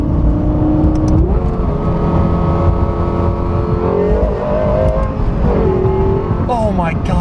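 A Lexus LFA V12 drones steadily at close range, then revs in several quick rising surges near the end, loud and continuous, with voices faintly underneath.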